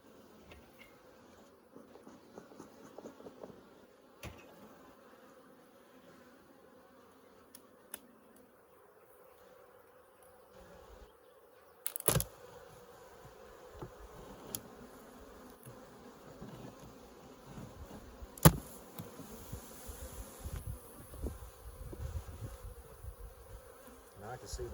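Bees buzz around a beekeeper at the hive, a dense, continuous droning swarm close by with individual insects whizzing past and occasional handling knocks and thumps.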